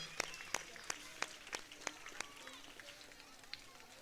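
Audience at a St. Anthony's High School anniversary celebration in Warangal breaks into scattered applause, sharp claps at an uneven rhythm, faint and somewhat distant, thinning out toward the end.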